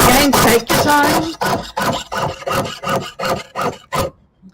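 A jeweler's saw cuts around a small metal bail on a jewelry piece, loud and close, with about ten steady rhythmic back-and-forth strokes that stop abruptly at the end.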